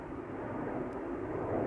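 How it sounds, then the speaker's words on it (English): A United Dreamliner airliner taxis toward the runway at Amsterdam Schiphol, a steady broadband engine roar that holds nearly level and swells slightly at the end, with no voices. "We have a United Dreamliner that is also coming this way."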